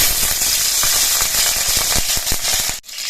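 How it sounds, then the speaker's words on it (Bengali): Slit green chillies frying in hot oil with black cumin seeds, a loud, steady sizzle with crackling pops and spatters throughout, cutting off abruptly near the end. "এর মধ্যে আমি চারটে চেরা কাঁচা লঙ্কা দিচ্ছি"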